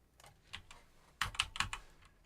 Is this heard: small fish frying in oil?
no